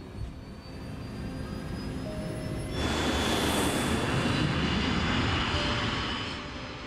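Boeing 747 jet engines roaring loud and steady on a takeoff roll, power stepping up sharply partway through into a fuller, broadband rumble with a high whine, then easing slightly at the end.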